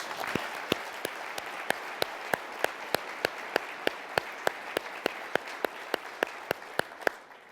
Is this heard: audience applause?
yes